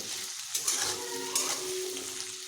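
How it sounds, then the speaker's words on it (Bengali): Potatoes fry with salt in a pan, giving a steady, close sizzle with a few stirring scrapes and no voices. "এবার আমি নুন মিশিয়ে আলুগুলোকে একটু বেশ ভালোভাবে ভেজে নেব"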